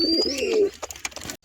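A young pigeon sitting close by gives a soft rolling coo, brief and near, followed by a few faint rustling taps.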